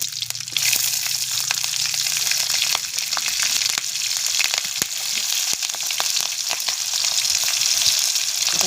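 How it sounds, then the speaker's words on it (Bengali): Tempering spices and green chillies fry in hot oil in a kadai, making a loud, close, continuous sizzle and crackle with occasional stirring clicks, no voice over it. "কড়া গরম হয়ে গেছে, তেল দিয়ে দিলাম। এবার ফোড়ন দিয়ে দিলাম, কাঁচা লঙ্কা"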